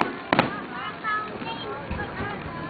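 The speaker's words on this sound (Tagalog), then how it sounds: "yan ang ating paputok sa Bulacan" Fireworks from Bulacan burst in a sharp close crack followed by faint popping, while people talk throughout.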